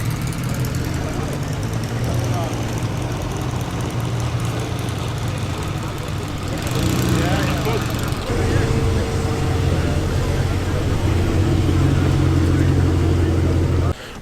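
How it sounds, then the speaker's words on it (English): A 3 litre Vanden Plas classic car pulls up at a classic car show, its engine a steady low idle rumble that swells around the midpoint among crowd noise, then cuts off at the end. "this wonderful 3 litre Vanden Plas has pulled up"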